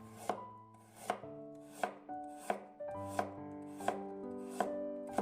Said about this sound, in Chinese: 先给它切成薄片